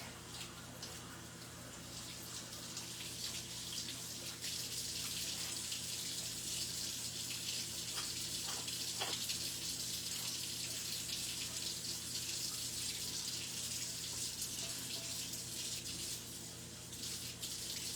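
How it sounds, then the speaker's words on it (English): Water runs steadily from a kitchen sink tap while carrot clippings are rinsed into the drain and the basin is cleaned, a faint continuous splashing hiss with a few brief clinks partway through. "Rinsing everything out, putting my carrot clippings in the drain, cleaning the sink."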